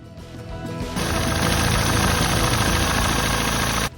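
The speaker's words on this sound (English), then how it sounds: "you can then start your engine" BMW E91 320d diesel engine with a coolant leak, cranking briefly, then catching and settling into a loud, steady, close idle with a rough diesel clatter before cutting off abruptly near the end.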